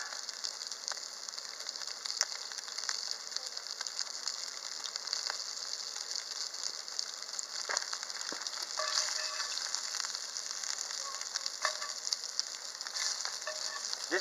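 Eggs and biscuits cook in a Dutch oven set on a trivet, giving a faint, continuous sizzle and frying hiss with occasional small pops and crackles, steady throughout and free of talk.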